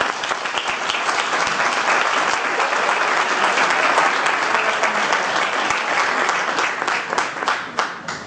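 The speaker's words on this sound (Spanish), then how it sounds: "Un fuerte aplauso para Juanjo, por favor." An audience at a talk on poltergeist houses in early twentieth-century Spain gives the speaker a loud, sustained round of applause that fills the whole stretch evenly, thinning slightly at the end.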